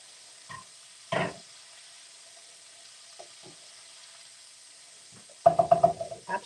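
A Greek-style stuffing mixture sizzles softly as it caramelizes in a pan, a faint steady hiss broken by a few stirring knocks and ending in a louder rattling burst of activity.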